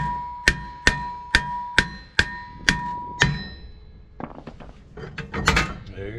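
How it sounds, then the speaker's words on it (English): A hammer strikes a Toyota Sienna rear brake rotor seven times in a steady rhythm, each tap ringing sharply and close, followed by some clattering handling noise. "we'll grab a hammer and we'll hit it on the face right here in between the studs"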